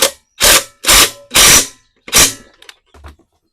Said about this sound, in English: Again, I'm going to use an impact, but just tighten it.